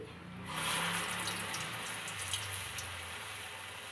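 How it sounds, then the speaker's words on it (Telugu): Husked urad dal vadas drop into hot oil and set off a steady, close sizzling hiss that starts after a brief pause and carries on evenly, with a faint voice underneath. "ఆయిల్ హీట్ అయింది నా స్టైల్లో అయితే మినపగారెలు ఇలా వేస్తానండి"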